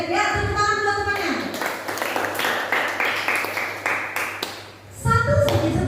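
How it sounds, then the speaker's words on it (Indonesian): Students in a classroom clap for a classmate, a rhythmic burst of hand claps lasting about four seconds, with voices speaking just before and after. "tepuk tangan buat temannya"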